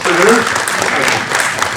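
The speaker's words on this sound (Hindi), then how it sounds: "जरा इन 8 लोगों को 80 लोग ताली से शाबाश कर दो।" A classroom audience of about eighty at a research methods session clapping to praise a small group, a brief burst of loud applause with a voice speaking over it.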